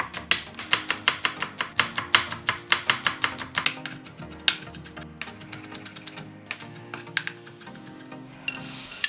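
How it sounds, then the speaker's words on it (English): A knife chops a large green onion very thinly on a cutting board, making rapid, evenly spaced sharp taps that loosen and slow toward the end. "Cut the large green onion in half and in half again"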